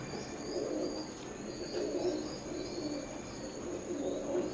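A pair of KTM blood line Teddy pigeons coo softly and repeatedly close by, low rolling calls rising and falling in a steady rhythm over quiet background hiss.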